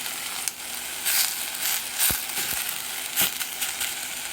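Meat sears in a hot pan for fesenjoon, giving a steady loud sizzle with sharp crackles and a few scraping knocks, no voices.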